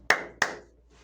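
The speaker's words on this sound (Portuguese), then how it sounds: "tem que bater 2 palmas pra sincronizar depois" Two sharp hand claps about a third of a second apart, close and crisp in a quiet room, used to sync a podcast recording, with each clap decaying quickly and no voices.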